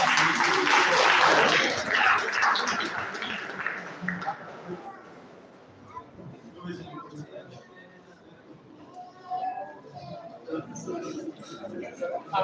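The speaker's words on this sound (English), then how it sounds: "a round of applause for him" An audience at a university environmental event applauds a speaker, loud clapping at the start that fades within a few seconds, then thins into scattered sounds and faint voices.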